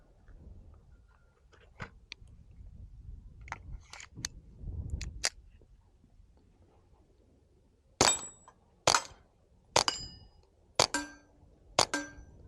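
A suppressed Ruger Mk IV pistol fires Federal 45 grain rounds into dirt, producing five sharp, evenly spaced cracks close by after some quieter handling clicks.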